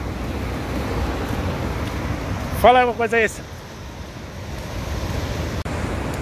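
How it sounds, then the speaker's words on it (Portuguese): Rough, churning sea surf at São Conrado beach, a steady broadband wash with wind noise throughout, briefly interrupted by someone speaking. "Hoje o mar não tá pra peixe. Tá brabo, hoje o maré tá agitada"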